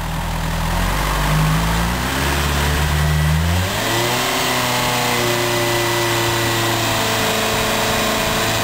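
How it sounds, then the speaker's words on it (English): A mid-pitched motorcycle engine revs up to a steady, higher hum around 4,000 rpm and holds there during throttle body synchronization, loud and close, with no talking. "Then we revved up for about 4 grand, held it there, and resynched."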